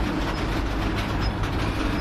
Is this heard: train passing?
yes